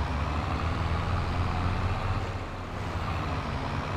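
A truck in Farming Simulator 22 drives back to the farm, a dense low engine rumble with road noise that runs steadily and loudly throughout, dipping slightly midway.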